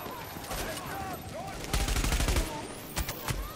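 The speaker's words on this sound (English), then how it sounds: "Noah's getting shot right now by turrets" Automated turret gunfire in The Division, rapid bursts of shots over busy battle noise, with players talking over the top.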